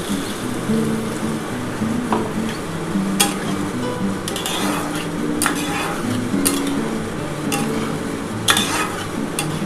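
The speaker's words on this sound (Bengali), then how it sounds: "এবার জল দিয়ে দিলাম" Water goes into a sizzling ginger-cumin spice paste in a pan for a katla fish and potato curry, making a loud, steady hiss and bubbling up close, with a few sharp utensil taps.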